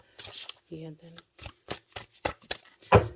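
Tarot cards are shuffled in quick, crisp riffling bursts, close and clear, during a horoscope reading, with a brief hummed voice in between.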